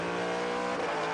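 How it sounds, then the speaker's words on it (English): A WEC endurance race car's engine revs steadily during the final minutes of the 6 Hours of Bahrain, a continuous, loud mechanical drone with no voices over it. "This is a fabulous, fabulous sounding machine, and I would just love it if Stewie does the job"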